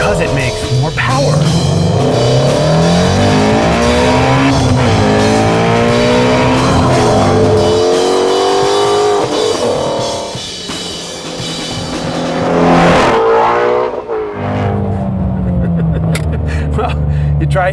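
Ford Mustang Shelby GT350 with its flat-plane V8, loud engine revving close by with rising and falling pitch sweeps and brief lifts between pulls, sustained almost throughout.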